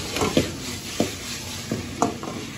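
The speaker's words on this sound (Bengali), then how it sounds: "সেটাকে এর মধ্যে অ্যাড করে খুব সুন্দর করে আবার ফ্রাই করে নিতে হবে" Lemon chicken stir-fried with julienned gondhoraj lemon peel in a pan, a steady close sizzle broken by several sharp scrapes and clinks of a spatula against the metal.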